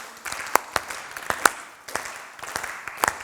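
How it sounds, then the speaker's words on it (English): An improv comedy audience claps as a performer exits, with scattered, uneven handclaps in a few short bursts rather than full sustained applause. "let's give him a clap out"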